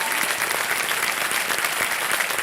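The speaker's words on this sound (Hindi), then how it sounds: "तालियां बजाएं" An audience applauds a guest author at a live event: dense, continuous clapping from many hands that stays even for the whole stretch.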